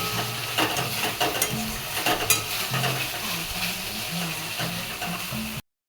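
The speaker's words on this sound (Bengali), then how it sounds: "ভালো করে নাড়াচাড়া করবো তারপরে সামান্য একটু জল দিয়ে কষাবো" Potato and pointed gourd curry being stirred in a pan, with a steady scraping and shuffling over a continuous sizzle and faint steam hiss, fairly close and with no talking.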